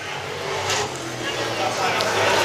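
Late model race cars roar around the track during a feature race, a dense and continuous engine drone with cars passing, under steady excited commentary.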